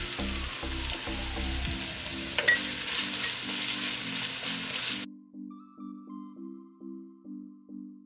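Onion with ginger-garlic paste and salt frying in a pan sizzles steadily with occasional stirring scrapes for about five seconds, then gives way to a quieter stretch of soft repeating tones.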